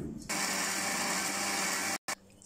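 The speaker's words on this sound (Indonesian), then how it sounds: "Sekarang saya nak kisarkan tomato dulu ya." Tomatoes being ground in a kitchen blender for a crab gravy dish: a loud, steady motor whir that starts abruptly, runs continuously, cuts out briefly near the end and restarts.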